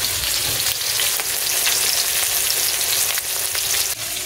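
Fish frying in a wok throws off a loud, dense, unbroken sizzle close up that holds steady for the whole stretch and dips slightly at the end, with no voices.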